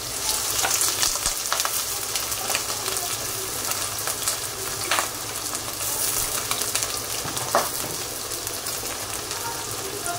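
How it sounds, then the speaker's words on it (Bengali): Thick-cut potato pieces fry in hot oil for a curry of mixed small fish, with a steady, close sizzle running throughout and a few faint stirring knocks. "আলুটাকে ভালো করে তেলের মাঝে ভেজে নেব।"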